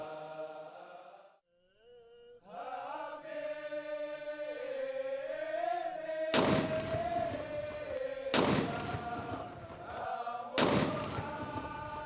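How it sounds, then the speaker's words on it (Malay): Ceremonial cannon salute of 21 rounds fired at an official state event in Brunei: three loud, sharp booms about two seconds apart ring out over a band playing a sustained brass melody. "diikuti dengan tembakan meriam 21 das"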